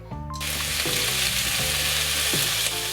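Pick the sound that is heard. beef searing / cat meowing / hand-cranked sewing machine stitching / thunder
beef searing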